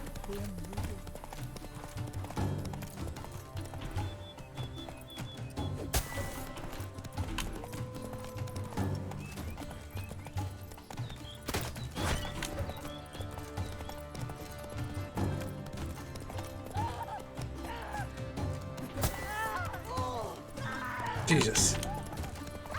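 Roach the horse gallops in The Witcher 3, with rhythmic hoofbeats and occasional neighs over game music while a player talks throughout.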